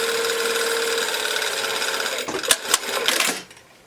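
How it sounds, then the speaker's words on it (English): A sewing machine sews down a coat lining with a steady, dense whir for a couple of seconds, then several sharp clicks and a short final burst as it stops, close and alone. "We're just going to sew down."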